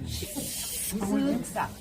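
A person imitates a snake with a breathy hissing voice, making several short sibilant hisses mixed with bits of speech, close and fairly loud.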